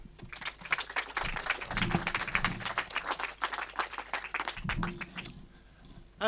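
At a CWJobs breakfast briefing, an audience welcomes a speaker with a dense burst of clapping that stays fairly even, thins out toward the end and ends before a brief pause.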